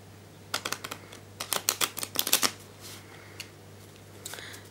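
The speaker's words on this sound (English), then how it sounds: "And a riffle shuffle." A rapid burst of crisp, clicking flutters, like cards riffled together, in two quick runs followed by a few softer taps; close and fairly quiet, no talking.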